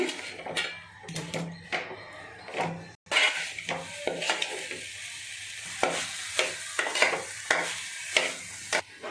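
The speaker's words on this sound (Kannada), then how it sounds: "ಈಗ ಇಬ್ಬರಿಗಾಗುವಷ್ಟು ಅನ್ನ ಹಾಕ್ತಾ ಇದ್ದೀನಿ. ಇದನ್ನು ಚೆನ್ನಾಗಿ ಮಿಕ್ಸ್ ಮಾಡ್ಕೋಬೇಕು." Cooked rice being stirred into a hot pan for paneer fried rice, with repeated scraping spatula strokes and metal clinks over a soft sizzle, close and fairly quiet, no talking.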